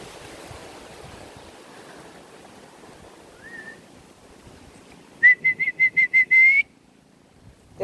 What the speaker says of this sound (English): That's how we call our dogs, just a whistle.